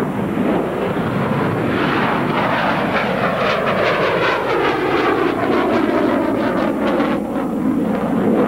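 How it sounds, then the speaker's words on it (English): An F-14 Tomcat jet accelerates and climbs at an air show, a loud roaring pass whose pitch sweeps downward as it goes by, buffeted by wind noise. "the Tomcat will actually accelerate to about 450 knots"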